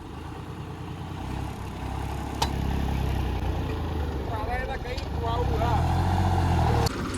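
A John Deere tractor engine labors to pull out a tree, a steady, heavy low rumble throughout with a few sharp knocks, while voices murmur faintly in the background.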